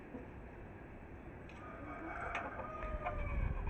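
An Aseel hen clucks faintly among other fowl, with soft, scattered calls over a low background hum that grows slightly louder toward the end.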